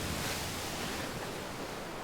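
A wall of water gushing out through a doorway in the game 999: 9 Hours, 9 Persons, 9 Doors, a steady, loud, broad rushing roar like surf, continuous and close without any voices.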